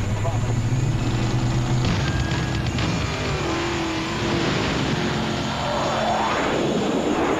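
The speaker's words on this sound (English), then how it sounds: "Budweiser King Top Fuel Dragster" A Budweiser King Top Fuel dragster's engine roars loud and dense, a steady wall of sound for the whole stretch, with a voice talking over it.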